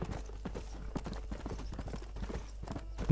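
Horse hooves clip-clop steadily at a walking rhythm in the Western video game Red Dead Redemption, close and clear over a low background hum.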